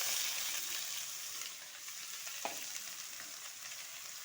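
Leafy greens sizzle in a hot pan with chopped green chilies, a close, steady frying hiss with a brief clack of a utensil partway through.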